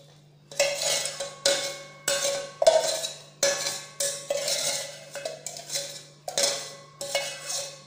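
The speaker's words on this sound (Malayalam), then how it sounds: "നല്ലോണം മിക്സ് ചെയ്യാം." A spoon stirs sugar syrup and cardamom powder into a laddu mixture in a pan, making about a dozen regular scraping, clinking strokes over a faint steady hum, with no voices.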